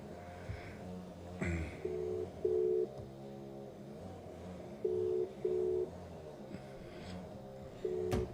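Ringback tones of an outgoing phone call sound faintly in repeated pairs of short beeps with pauses between, over a low hum.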